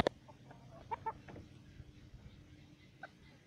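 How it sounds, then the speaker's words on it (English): A farm chicken gives a few short, faint clucks over quiet outdoor background noise, with a sharp click at the start and scattered soft calls afterward. "Chicken walks by."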